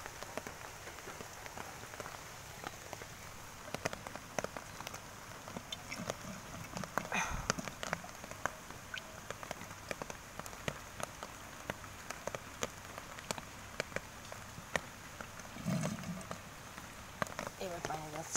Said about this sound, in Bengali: দেখেন কি পরিমাণে জোরে পানি যাচ্ছে